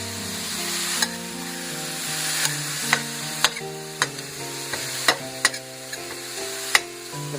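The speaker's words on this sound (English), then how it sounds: "Put this meat in the pan and saute it." Ground beef sizzles and fries loudly in a pan for chili, a constant hiss broken by repeated scraping strokes of a spatula stirring the meat.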